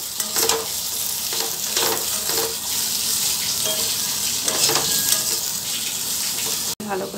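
Fried potatoes and spices are stirred in a frying pan with a steady sizzle, broken by repeated scraping strokes of the spoon across the pan, close up and continuous.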